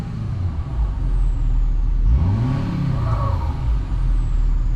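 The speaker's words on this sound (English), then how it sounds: "you can hear the turbo better" A diesel truck engine with a turbo, revving with a rising and falling turbo whine over a steady low rumble, close and loud, no talking.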